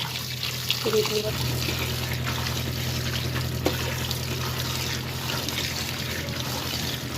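Poi saag (Malabar spinach) leaves are rinsed in water to loosen sand, with steady trickling and sloshing, a few soft handling knocks and a constant low hum behind it.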